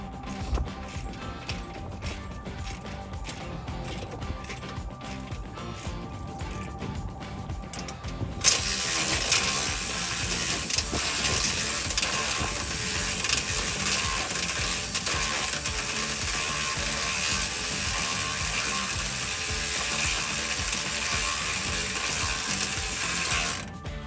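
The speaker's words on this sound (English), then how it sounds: "You're going to need a 21mm wrench and a 20mm socket." A ratchet and socket wrench clicks rapidly on the suspension of a Jeep Wrangler JL 4-door during a lift kit install, first in short spaced bursts, then in a long, loud, continuous run of ratcheting close up.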